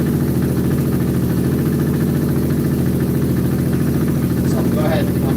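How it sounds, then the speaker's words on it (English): A scooter engine idles steadily while warming up before an oil change, a continuous close-up mid-pitched hum with buzzing vibration that stays level throughout. "I'm gonna rev the bike up here so we can warm up quick."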